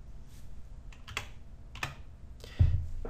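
Keys tapped on a computer keyboard, including the delete key, a few light close clicks spread over three seconds with one firmer press near the end, no voices.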